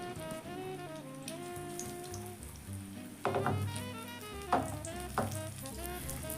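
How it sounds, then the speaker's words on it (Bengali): Green chillies sizzle and crackle in hot oil beneath background music, with a few louder spits and pops. "এগুলোকে ঠিক উল্টে পাল্টে খুব ভালোভাবে ভেজে নিতে হবে"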